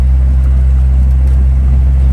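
A truck engine hums loud and close while driving, with a steady, deep low-pitched drone and no talking.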